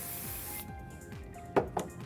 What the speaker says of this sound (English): spraying the working spray